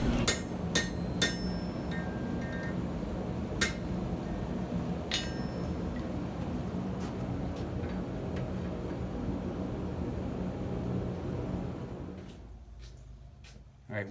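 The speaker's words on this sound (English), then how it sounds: "I'm going to take it and upset the corners and then open it back up" A steel collar is hammered on an anvil at a blacksmith's forge, with sharp ringing strikes spaced irregularly over a steady loud rumbling background hum that drops away near the end.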